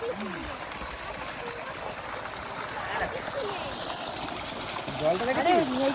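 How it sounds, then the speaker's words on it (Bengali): Water pouring strongly into a paddy field planted with rice seedlings, a steady rushing flow heard outdoors with people talking over it. "জোরে জল পড়ছে"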